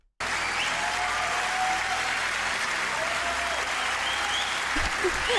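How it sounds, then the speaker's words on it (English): An audience breaks into sustained applause, a dense, even roar of clapping that starts abruptly and holds steady at a fairly distant, moderate level. "Average person applauds"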